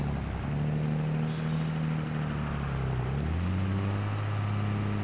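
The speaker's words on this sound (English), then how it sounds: "Come on, Mr. Tractor, you can do it." In a farming video game, a tractor engine drones loud and constant, its low pitch dipping and climbing as it strains to shift out of first gear, with no voices over it.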